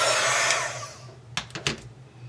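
A hair dryer blows on a Chalk Couture vintage truck craft project, a close, steady rushing whoosh for about a second before it cuts off, followed by a few light handling clicks.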